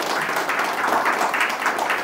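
A church congregation applauds together, a steady dense wash of clapping filling the short stretch without a break.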